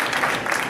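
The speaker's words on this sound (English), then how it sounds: "the great panelists here deserve our applause" Audience applauding the panelists at a conference, a short burst of steady crowd clapping at moderate loudness.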